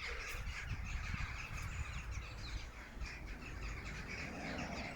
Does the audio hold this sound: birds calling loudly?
yes